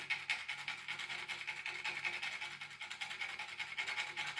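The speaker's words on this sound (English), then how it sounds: "As I am grating my nutmeg." Nutmeg is scraped against a grater in a home kitchen, making a faint, rhythmic rasping with quick repeated strokes. It runs steadily for a few seconds with no voices.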